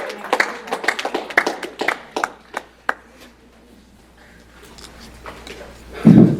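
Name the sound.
class applauding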